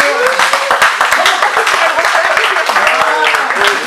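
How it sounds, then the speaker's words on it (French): Audience applause at a ceremony honoring a 6th-dan karate master, dense continuous clapping from a crowd with voices calling out over it throughout. "Super, on applaudit encore"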